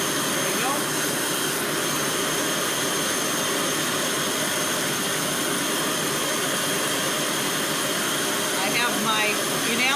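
A gas torch for enamelling burns with a steady loud roaring hiss, a constant rushing flame heard close up for the whole stretch, with faint talk underneath.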